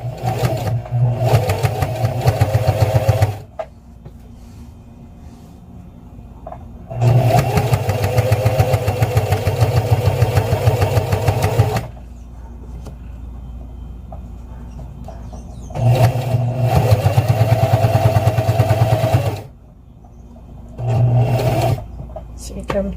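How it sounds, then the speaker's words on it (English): A sewing machine stitches across vinyl and zipper tape in loud, close bursts of rapid mechanical whirring, stopping and starting several times with quiet pauses between runs. "we're going to sew across here straight up to the end and stop here"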